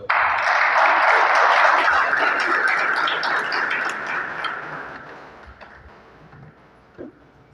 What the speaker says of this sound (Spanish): Le damos la bienvenida a Padre Alejandro con un fuerte aplauso.